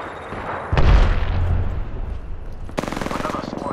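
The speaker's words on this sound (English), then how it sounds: "I'm taking fire. Opening fire." Gunfire in a battle royale video game: a close burst of shots with a heavy boom, a rumbling stretch, then another rapid volley of shots, set over a constant game din.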